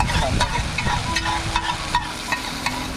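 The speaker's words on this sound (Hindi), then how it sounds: "तवे पे ही फ्राई होती है ये, है ना?" Food frying on a hot tawa griddle at a pani puri stall, with steady close sizzling and occasional stirring scrapes running through the whole stretch.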